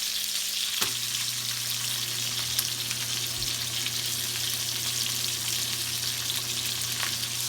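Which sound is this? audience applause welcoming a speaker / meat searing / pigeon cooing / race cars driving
meat searing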